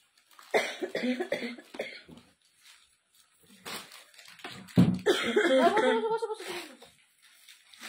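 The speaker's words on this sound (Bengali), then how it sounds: "প্রচন্ড কাশি হয়ে গেছে" Heavy coughing fits in a quiet room during a saree sale: several harsh, close bursts in clusters, with short gaps and a louder, extended spell near the end.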